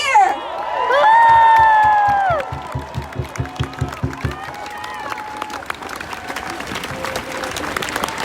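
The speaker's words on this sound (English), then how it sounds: "Please cheer for the Asian American children who are here." Crowd at a Stop Asian Hate rally breaking into loud cheers and shouts, with children's voices among them, then a run of rhythmic clapping that fades into scattered applause.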